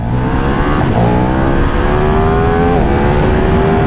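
A KTM 1390 Super Duke R motorcycle launches hard under launch control, its engine roaring loud and close as it climbs through the revs, with a quick gear change before the pitch rises again.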